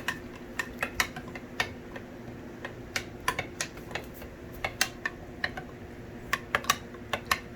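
A spoon stirs ground coffee in a glass French press for Vietnamese iced coffee, making quick, bright clinks against the glass in an irregular rhythm over a faint steady background, close by and with no talking.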